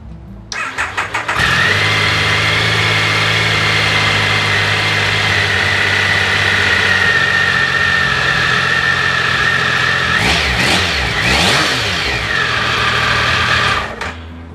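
An old motorcycle engine sputters to life after a few quick cranks, idles loudly and steadily, then revs up briefly near the end before cutting off.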